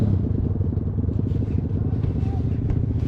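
Motorbikes run in the distance near an old foundry and mine, a continuous low, rough engine rumble with faint clatter that holds steady throughout.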